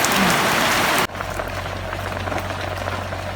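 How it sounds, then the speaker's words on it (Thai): Steady rain patters hard and hissing near an outdoor cooking spot where bamboo shoot soup is being made, then abruptly quiets to a softer drizzle with a low hum beneath. "ฝนก็หัวลงมาเนาะ"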